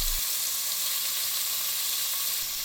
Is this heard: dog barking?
no